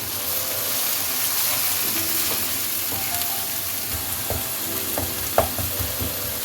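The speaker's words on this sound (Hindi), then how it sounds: "1 टीस्पून भरकर कुटी लाल मिर्च, 1/4 टीस्पून हल्दी और 3 हरी मिर्चें कटी हुई वो इसमें शामिल करें और इसको भून लें" Crushed red chili, turmeric and chopped green chilies frying in oil in a pan for an egg masala, a steady close sizzle with intermittent clinks and scrapes of a stirring spoon, no speech.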